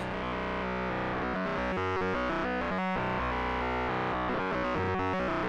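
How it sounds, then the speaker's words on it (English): Thick, buzzing synthesizer tones layered from sine oscillators shift through changing pitches in a dense, continuous drone. "Only listening to the sine waves, but it still gives a pretty thick sound."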